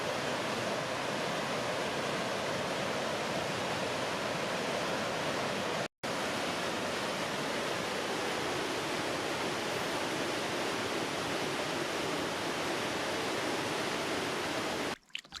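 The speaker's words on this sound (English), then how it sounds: "Beautiful waterfall." Waterfall on the Ranger Lake canoe route, a steady broadband roar of falling water, loud and continuous, with a brief dropout partway through and no voices.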